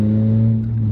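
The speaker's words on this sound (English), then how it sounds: "we'll give it the gas and see what happens. It's spinning the wheels" A Toyota Corolla's engine held at a steady, loud rev on an icy road as the wheels spin, a constant droning hum with no voices over it.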